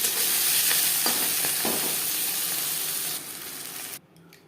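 Dried red chili fries in oil in a wok with a loud, close hiss and a few stirring scrapes. The sizzle eases off and then cuts out abruptly near the end.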